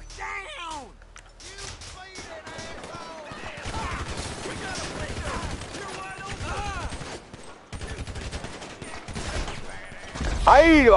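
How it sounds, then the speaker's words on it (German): Gunfire erupts in GTA Online during a Cayo Perico heist, with repeated bursts of shots and clattering impacts across the scene while someone talks excitedly over the noise. "Womit schießen die denn, Leute?"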